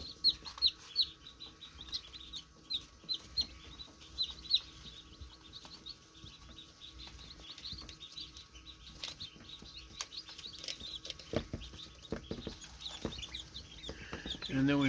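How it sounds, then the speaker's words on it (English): Newly hatched baby chicks of mixed breeds, just out of the incubator, peeping and chirping in a steady high-pitched chorus close by, with scattered clucks and some low background noise. "These are baby chicks. They just come out of the incubator the last day or 2."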